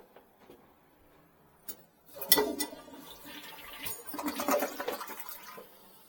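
Water runs from a tap into a clogged commercial bathroom sink, a faint trickle that swells into a louder splashing fill in the middle and then eases off, heard close by.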